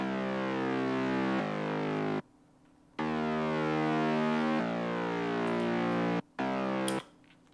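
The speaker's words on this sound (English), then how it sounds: "So this is our mid bass layer here." Future bass mid bass synth layer built in Harmor with three unison voices, playing loud, sustained buzzy chord stabs in a rhythmic pattern broken by short silent gaps.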